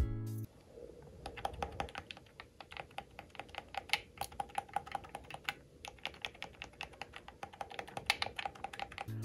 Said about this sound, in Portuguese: Tem um clique bem fixo, você consegue, apesar do conforto, saber muito bem quando você ativou um dos botões do D-pad